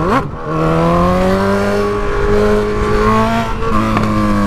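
A Honda CB1000 motorcycle with a straight-pipe exhaust revs hard and loud, its pitch climbing and holding in a sustained roar before dropping and rising again, heard up close.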